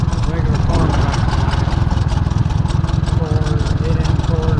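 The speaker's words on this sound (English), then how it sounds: "This is a tractor." An old Ford farm tractor, retrofitted as a bulldozer, idles nearby with a loud, steady, throbbing engine rumble that runs without a break.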